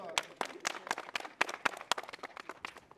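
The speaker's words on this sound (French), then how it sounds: "Applaudissez pour vous-même" An audience at a gathering in Bamako, Mali, applauds itself: distinct, close hand claps in an uneven rhythm, a dozen or so sharp claps over a few seconds with a faint voice in the background.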